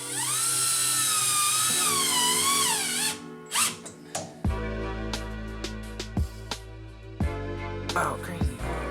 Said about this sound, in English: Right now we're screwing down these, well, at least this top board.